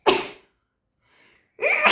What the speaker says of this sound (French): J'éternue à chaque fois.